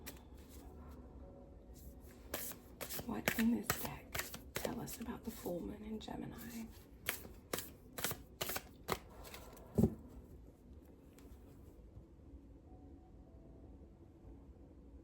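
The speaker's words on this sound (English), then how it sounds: "And let's give it a quick shuffle." A tarot deck being shuffled by hand, with a run of crisp card riffles and flutters that grow denser and louder toward the middle, then thin into scattered taps; a voice speaks over part of it.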